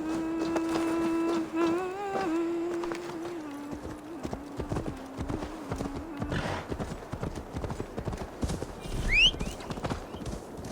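Horse hooves clip-clop in the video game Assassin's Creed Valhalla, a steady trotting rhythm under a sustained musical tone and game ambience, with a brief whinny-like sweep near the end.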